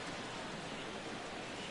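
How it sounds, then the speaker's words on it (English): Steady rain pours down in a baseball game in MLB The Show 17, a dense, even hiss of falling water that fills the moment without pause, faint overall and with no talk. "we've mentioned the conditions aren't ideal with the rain coming down"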